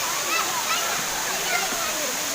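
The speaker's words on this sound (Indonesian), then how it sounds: "air terjun Gelundung" Gelundung waterfall at an outdoor nature tourism site, a steady broadband rush of falling water with splashing, continuous and fairly close throughout, with faint crowd voices mixed in.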